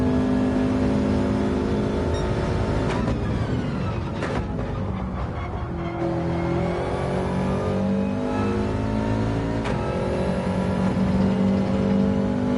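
A Subaru WRX engine in a racing video game, loud and continuous, revving and accelerating through repeated gear changes with rising whines and brief dips between shifts.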